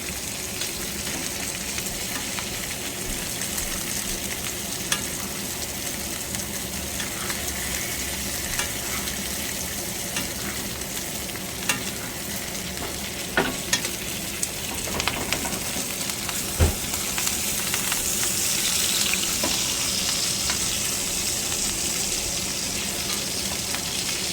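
Ribeye steaks sizzle steadily in a pan as they are basted with butter, garlic and thyme, a constant close frying hiss with occasional sharp pops and spatters, no talking.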